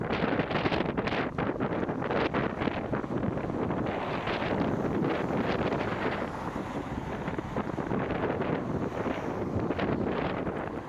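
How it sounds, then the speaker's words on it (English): Wind and breaking waves on a beach at Sandkaas near Rønne on Bornholm, Denmark: a steady, loud broadband roar with gusty wind buffeting the microphone throughout, no voices. "you would rather just listen to the wind or listen to the waves"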